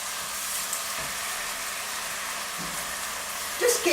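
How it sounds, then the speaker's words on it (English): Chopped bacon and celery sizzle steadily in a pan as the base for minestrone soup, a continuous close hiss with a few small clatters near the end and no talking. "A cup of bacon in there, a chopped bacon, is quite nice. Now, while that's going, I'm going to add my vegetables."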